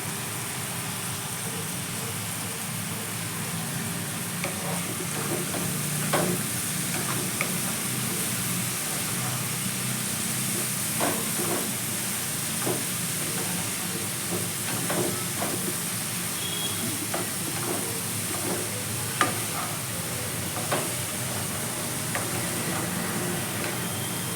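Spice powders of coriander, cumin and pepper stirred into snake gourd frying in a pan give a steady close sizzle and hiss, with faint scraping of the stirring throughout.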